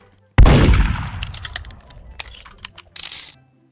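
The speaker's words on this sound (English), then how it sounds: "I just shot someone while they were literally ghosts." A single sharp game gunshot in Roblox Murder Mystery 2 bursts out loud and close, then fades into clicky rattling and a short second burst of noise.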